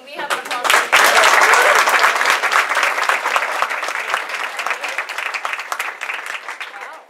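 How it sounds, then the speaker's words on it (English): Conference audience on a Saturday morning gives warm applause, a dense wash of clapping that swells quickly and holds steady, gradually thinning toward the end. "So can we have an applause for"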